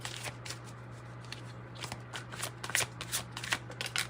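Tarot cards shuffled by hand during a reading, a steady papery riffle of quick crackling bursts that thicken toward the end, close and fairly quiet over a low constant hum.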